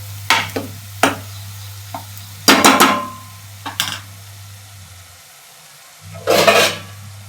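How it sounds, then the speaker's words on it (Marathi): Ground masala paste roasting in a pan for chicken sukka, with a steady low hum under scattered spatula scrapes and clatters, a louder burst of stirring midway and another near the end. "त्यामुळं वाटण छान भाजून घ्यायचं"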